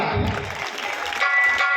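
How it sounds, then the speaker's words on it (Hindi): Loud audience applause erupts at an outdoor Ramlila stage performance of the Ravan and Angad dialogue, a short dense burst of clapping from a crowd with some voices mixed in. "जोरदार तालियां।"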